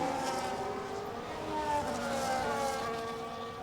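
A McLaren race car engine in a racing video game drones steadily with rising and falling harmonic tones as it accelerates, a continuous mid-level whine without talk, with other cars audible nearby.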